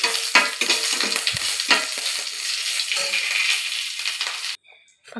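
Curry leaves dropped into hot oil with mustard seeds and chillies while tempering an okra curry, giving a loud crackling sizzle with sharp pops that cuts off abruptly near the end, leaving a few faint clinks.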